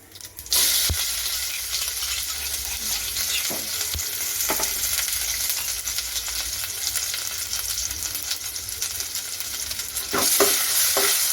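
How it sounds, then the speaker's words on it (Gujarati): Ginger, green chili and garlic paste sautéing in hot oil with mustard and cumin seeds for vada pav, a steady close sizzle with occasional stirring scrapes throughout, no talking. "થોડીક સતળાઈ જાય આ રીતે આપણે સાસળી લેવાની છે તો થોડી કચાશ દૂર થઈ જાય છે"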